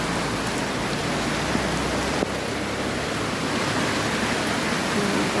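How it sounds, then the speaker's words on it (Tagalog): Heavy rain pours down steadily in a dense, unbroken hiss around a house in the Philippines, loud and close, with no voices over it. "Lakas ng ulan po."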